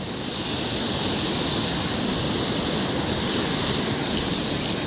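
Ocean surf rolling onto an Oregon beach during surf fishing: a loud, continuous close-up roar of breaking and rushing waves with no speech.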